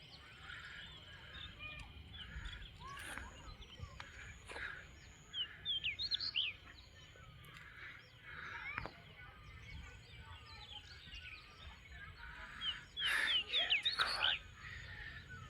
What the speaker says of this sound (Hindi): बस चिड़ियों की चहक है। साउंड सुनो यार, क्या ज़बरदस्त साउंड है